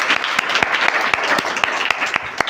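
Applause from a room of children and adults at a Hindi general-knowledge quiz contest for kids, a steady patter of many hands with sharp individual claps standing out, close and continuous.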